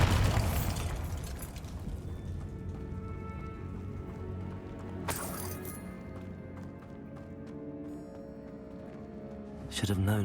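Bombarda spell explosions in the Hogwarts Legacy video game, a sharp burst at the start followed by ringing, booming decay, with further blasts near the middle and end, set among game sounds.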